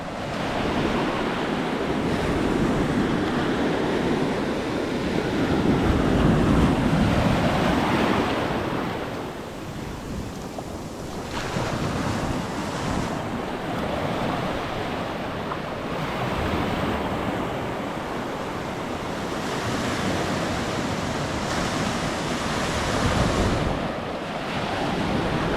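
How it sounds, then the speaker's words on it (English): Atlantic Ocean waves wash onto a sandy beach at Maspalomas, Gran Canaria, a continuous loud surf roar that swells and eases, with gusty wind buffeting the microphone and no talk. "Let's go and dip our feet in the waters of Atlantic Ocean."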